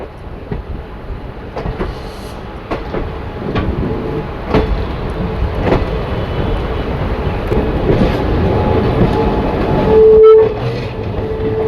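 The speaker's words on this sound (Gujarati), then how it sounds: "આજ આપણી ટ્રેનને લીડ કરે છે વેગ નાઇન લોકોમોટિવ" A train hauled by a WAG-9 electric locomotive rolls past with heavy rumbling and repeated clacks of wheels over rail joints, growing louder, with a brief horn-like tone near the end.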